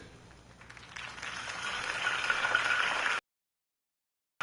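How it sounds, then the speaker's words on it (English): Crowd applause rising after a political campaign speech in the Batman Telltale video game, a dense steady wash of clapping that swells and then cuts off abruptly. "If only Mr. Wayne, my campaign's largest backer, could have heard that applause"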